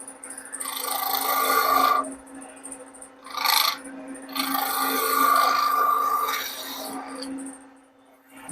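A woodturning tool rolls a simple bead on a spinning lathe workpiece with close, rasping scrapes in two longer passes and a short one between, over a steady lathe hum.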